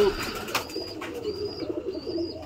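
Pigeons coo softly nearby in repeated low throaty phrases, with a few faint chirps and brief rustling in the background.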